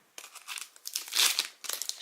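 Foil Pokémon booster packs for the Ombres Ardentes set being torn open, a close run of crisp crinkling and tearing that swells to a loud burst midway, then settles into lighter rustles with no talking.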